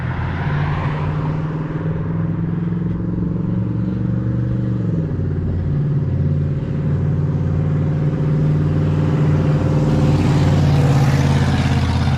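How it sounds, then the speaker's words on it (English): A truck with a loud muffler problem rumbles past during an afternoon walk, a continuous heavy low engine drone that shifts pitch partway through and stays loud and near throughout. "The truck has a muffler problem, or it may not have one."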